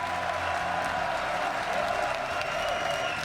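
Crowd at a League of Legends World Championship bracket draw in London, a dense, steady wash of applause and cheering from a large audience, loud and continuous throughout.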